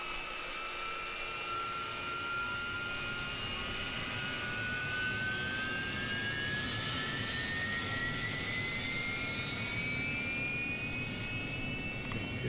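An AV-8B Harrier jet engine in the DCS flight simulator spins up during startup: a steady roaring whoosh with a thin whine that rises gradually in pitch, continuous and close, with no voices.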